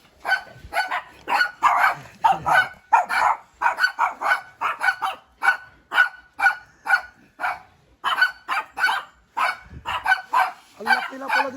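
A dog barks repeatedly in quick, evenly spaced bursts close by, with a yelp-like tone and a brief whimper near the end.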